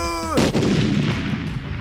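A loud Roblox game explosion bursts in after a short tonal chime, then a long rumbling roar with crackling debris that slowly fades.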